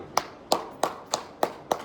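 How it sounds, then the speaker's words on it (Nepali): At a Christian church sermon, hands clap in slow unison: six crisp, evenly spaced claps about a third of a second apart, close and distinct, with quiet gaps between them. "आमेन, ताली"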